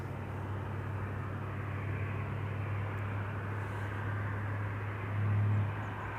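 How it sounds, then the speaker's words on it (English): Boeing 787 Dreamliner coming in to land at Amsterdam Schiphol: continuous distant jet roar and low engine hum held steady throughout, swelling briefly near the end. "Dreamliner coming in."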